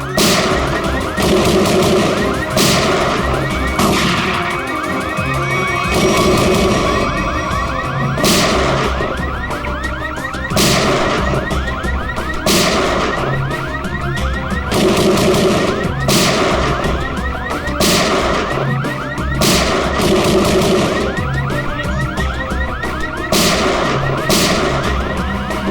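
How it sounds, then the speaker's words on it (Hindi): Gunfire and a shrill shock alarm in a crime drama scene inside a cave, heard as repeated sharp bursts punctuating a loud, continuous electronic wail with dense music-like layers throughout. "ये गोली कहां से चल रही? तो कोई अलार्म लगता है, शॉकर अलार्म।"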